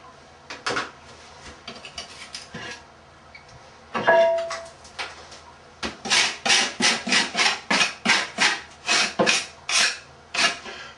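A hand tool scrapes excess tile adhesive from around a newly set ceramic soap dish: scattered scrapes at first, then a steady run of about a dozen short, rhythmic rasping strokes, close and fairly loud.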